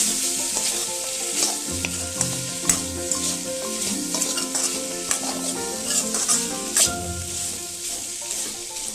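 Spices for a vegetarian fig (dumur) dish fry and sizzle in a pan under steady stirring, with a continuous hiss and repeated scraping clinks of the spoon, close and fairly loud throughout.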